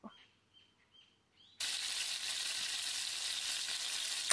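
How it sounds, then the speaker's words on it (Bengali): Ground spice paste, hand-ground on a grinding stone, drops into hot mustard oil in a kadai and breaks into a loud, steady sizzle that holds for several seconds after a brief quiet start with faint chirps. "তেল গরম হয়ে গেছে, শিলনোড়ায় বেটে রাখা মশলা দিয়ে দেব।"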